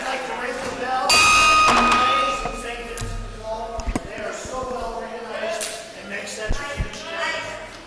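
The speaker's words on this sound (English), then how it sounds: "I'd like to ring the bell." A bell rings out sharply with a ringing tone that fades, over people talking and a few thuds in a lively Rotary club meeting room.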